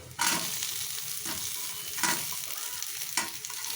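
Masala and onions frying in a pan for a raw banana kurma, a close bright sizzle broken by three stirring scrapes and bursts of hissing, no talk.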